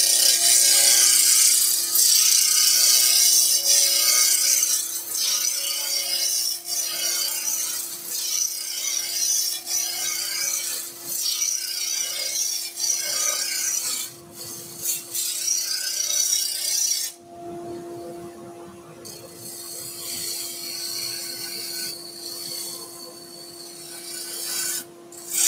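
A three-quarter roughing gouge cuts a spinning wood blank on a lathe at about 1800 rpm, shaping a salt and pepper grinder into a cylinder, a steady close rasping scrape with a motor hum underneath and a brief pause near the end.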